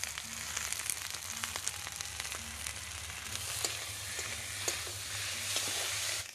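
Spices frying in a pan for a pointed gourd and shrimp curry, a continuous close sizzle with occasional faint stirring clicks and a low steady hum underneath.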